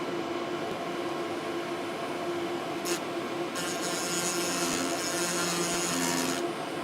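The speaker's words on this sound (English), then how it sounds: "we should then be able to grind a bit more." Grinding tool working a corroded solder pad on an Atari Jaguar circuit board, a fine steady rasping hiss that grows brighter and harsher partway through, faint and close with no talk.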